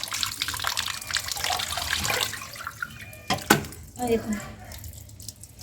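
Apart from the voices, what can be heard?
water poured while washing chicken meat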